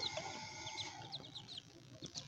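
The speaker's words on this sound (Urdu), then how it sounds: "یہ بچوں کے چوزے ہیں، بطخوں کے چوزے ہیں" Ducklings peeping in a rapid series of thin, high chirps, close by and fairly quiet, over a faint steady background hiss.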